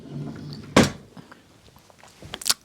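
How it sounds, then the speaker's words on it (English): A cat rattles a drawer trying to get in, giving a sharp loud clatter followed by softer knocks and a second bright rattle, after a brief bit of voice. "She was trying to get into one of the drawers."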